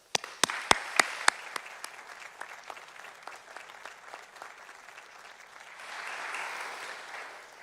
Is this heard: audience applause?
yes